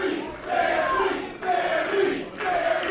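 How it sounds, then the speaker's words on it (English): A wrestling crowd at a Glory Pro event cheers and chants in loud rhythmic surges, three swelling waves of massed voices close around the listener. "listen to the crowd"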